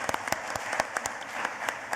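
A conference audience applauds to congratulate BMF on 35 years, giving a short burst of dense clapping with a few louder claps standing out.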